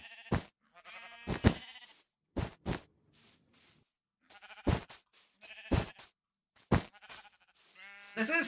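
Sheep in Minecraft Bedrock Edition bleat on a grassy sheep farm: a series of short, bright, wavering bleats come in irregular bursts, several sheep overlapping at times, with quiet gaps between calls.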